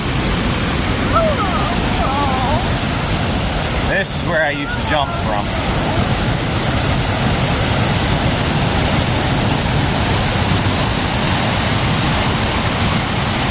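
A loud, steady roar of rushing water from a swollen waterfall at Ricketts Glen State Park fills the whole clip, with someone speaking briefly over it.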